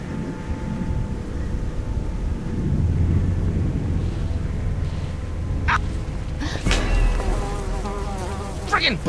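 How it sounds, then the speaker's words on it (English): Swarming bugs buzz steadily over windy ambience in the Jurassic Park video game, with a few sharp clicks and scuffs near the end. "Friggin' bugs!"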